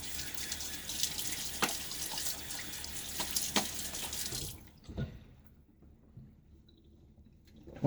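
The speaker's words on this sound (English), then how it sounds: "Water on my face." A tap runs steadily before shaving as water is splashed onto a face, a close continuous stream with wet slaps, then the flow stops abruptly, leaving near silence and a few faint drips.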